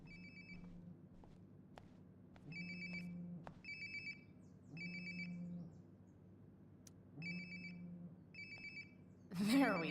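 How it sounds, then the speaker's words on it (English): A cell phone rings in Life is Strange: Before the Storm, sounding a bright electronic ringtone in about four repeated bursts at a moderate distance, ending with a louder rustling clatter. "Sounds like my phone is definitely nearby."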